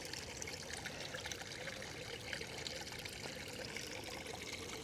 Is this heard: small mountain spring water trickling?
yes